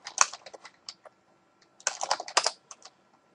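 Rapid typing on a computer keyboard while entering chat commands in an online game, two quick bursts of close, crisp key taps separated by a brief pause, with no voices.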